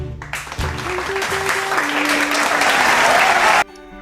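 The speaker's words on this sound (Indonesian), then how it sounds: "bolehlah kasih tepuk tangan untuk empat sekawan" An audience applauds a group of four presenters at an Indonesian teaching presentation, with steady, dense clapping that swells and holds for about three seconds before cutting off, while a faint tonal sound runs underneath.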